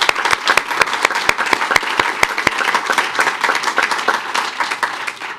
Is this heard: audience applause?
yes